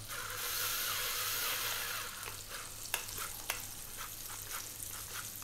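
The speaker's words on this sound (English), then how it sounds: "What we're going to do is we're going to drop in our onion, which I've sliced." Sliced onion hits hot olive oil in a pan already seasoned with garlic, salt and black pepper, producing a loud close sizzle that eases into steady frying, with a few clinks of utensil against the pan.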